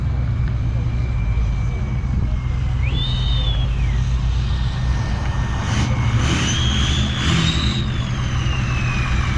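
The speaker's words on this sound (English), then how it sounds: "That diesel, you can hear that turbo." Diesel engine revving with turbo whistle, rising whines swelling around mid-clip over a steady low engine rumble, close and loud, with a voice speaking briefly.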